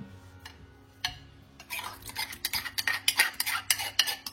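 A spoon stirs fromage blanc in a bowl, starting with a few isolated taps, then settling into a fast, rhythmic run of close clinks and scrapes.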